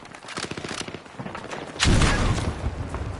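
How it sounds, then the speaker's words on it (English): Frag grenade blast in Battlefield 6 gameplay, preceded by a stretch of rapid gunfire, then a loud booming explosion with a sustained rumbling tail, all close and dominant. "Frag away!"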